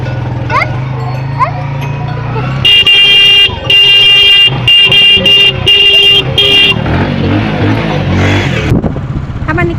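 A vehicle horn honks in a burst of repeated loud blasts, following an engine and other horn toots. The horns are close and dominate the middle of the clip, and a voice is also heard.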